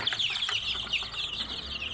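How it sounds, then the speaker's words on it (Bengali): Crested hill chickens cluck and chirp in a dense, busy chorus, close by, with wings flapping now and then and no clear voices over them. "আপনি ঝুটিটা মুরগি দেখেন"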